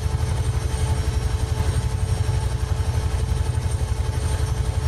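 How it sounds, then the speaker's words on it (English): A Huey helicopter flies in a flight-simulator game, its rotor and turbine giving a steady, loud, droning thump with a rapid even beat. It plays alone, without talk. "Huey helicopter."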